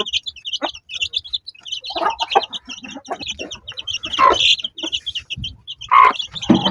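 Newly hatched chicks peep in a dense, high, continuous chorus while a mother hen clucks in low bursts close by, with several louder calls standing out.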